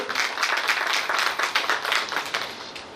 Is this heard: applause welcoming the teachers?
yes